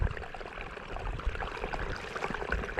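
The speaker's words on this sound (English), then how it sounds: "Can you hear the water? That's actually flowing underneath my feet right now" Steady rushing water flowing underfoot, a continuous close flow with gurgling texture and no voices.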